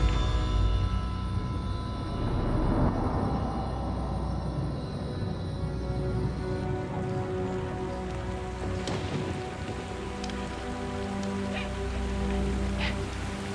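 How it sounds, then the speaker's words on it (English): Steady heavy jungle rain pours down continuously in the rainy season, a dense hiss of drops with occasional sharper spatters and a faint low rumble beneath. "It's rainy season in the jungle."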